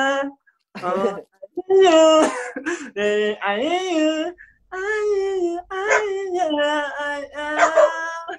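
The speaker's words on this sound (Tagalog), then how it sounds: "Ikanta rin yung aso niya, di ba? Sa background niya." A dog howls in the background alongside a sung, wavering voice, with several drawn-out, pitch-bending cries of moderate loudness spread across the stretch.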